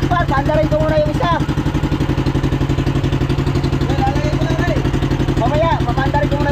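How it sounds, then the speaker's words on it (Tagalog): A boat engine runs on a boat out on rough seas in strong wind, chugging in a steady, fast rhythmic pulse close by. Several people talk over it throughout. "papandarin na dito isang makina"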